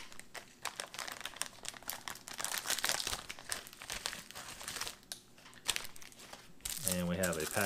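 Plastic packaging of a military cold-weather MRE accessory pack being torn open, a close run of crinkling and ripping rustles with a brief pause, ending with a person speaking.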